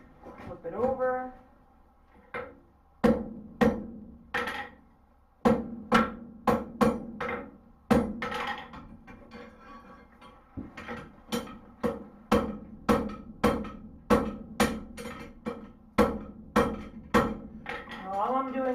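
Sharp, close metallic hammer blows drive a rivet into blacksmith's box jaw tongs, landing in quick irregular runs with short pauses, each strike ringing briefly.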